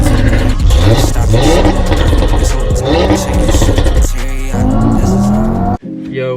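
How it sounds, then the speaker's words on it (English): An Audi TT RS fitted with a straight-piped Milltek catback exhaust revs hard, loud and close, with a rising and falling engine roar that cuts off abruptly near the end. "I have the Milltek full catback exhaust system."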